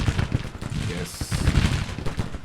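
Cannon and musket fire rattle across a Civil War battlefield in Grand Tactician Civil War, repeated booms and crackling volleys overlapping in an irregular stream, mid-distance and fairly loud, with a faint voice at times.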